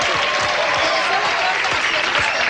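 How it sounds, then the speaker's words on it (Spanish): A studio audience on a Halloween-special charades game show applauds a contestant, loud dense clapping with a few rhythmic accents, under faint talk. "El aplauso para él."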